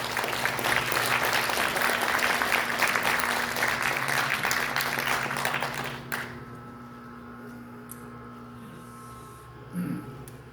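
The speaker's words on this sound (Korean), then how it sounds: "박수로 환영해 주십시오." Applause from an auditorium crowd at the launch ceremony of a Korean political party, dense and steady for about six seconds before stopping abruptly, leaving a quiet room with a low electrical hum.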